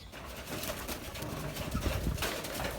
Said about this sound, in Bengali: এটাও কিন্তু বাচ্চা কবুতর যে ফ্লাই ক্লাস করতেছে